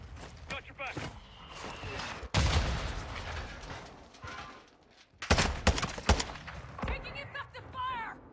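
Gunfire in the Call of Duty: Modern Warfare II shooter game comes as loud, sharp bursts with sustained rattling volleys and a heavy blast midway. Shouting voices break in between the shots.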